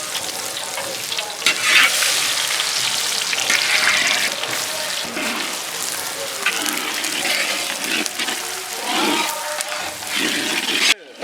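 Finely chopped onions hit hot oil with fennel and cloves in a pan for a country chicken fry. A steady, loud sizzle crackles throughout, broken by scraping stirs.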